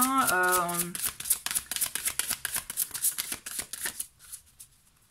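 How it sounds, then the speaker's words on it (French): Tarot and oracle cards are shuffled and drawn by hand, with a quick rapid riffle of card flicks running for several seconds over a brief musical tone, then fading out. "J'ai envie de prendre 3 cartes de plus pour voir un peu quels sont les messages."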